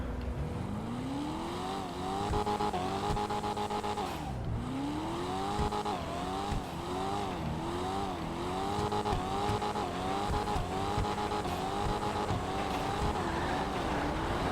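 Invertero Coquette D1, an old classic car in GTA Online, drives with a continuous engine note that rises and falls through repeated revving gear changes over about fourteen seconds, loud and steady with no talk.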